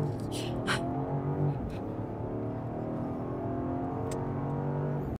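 A BMW XM SUV engine drones steadily while the car drives along, a smooth continuous cabin hum with a rising tone, and people talk briefly near the start.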